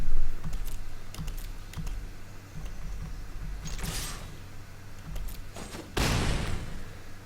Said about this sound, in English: Is the Logitech G512 a silent keyboard?